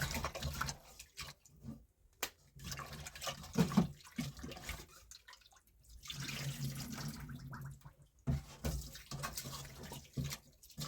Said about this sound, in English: you make sure you wash your chicken nicely